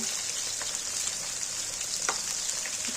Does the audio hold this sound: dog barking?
no